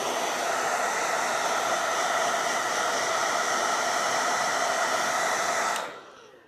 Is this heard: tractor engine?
no